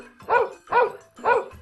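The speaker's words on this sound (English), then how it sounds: "You're right, it's the doggy." Three evenly spaced dog barks ring out from a farm animals game on a tablet, clear and close, each a short bright woof with brief pauses between.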